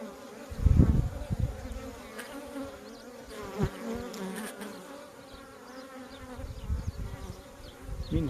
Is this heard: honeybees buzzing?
yes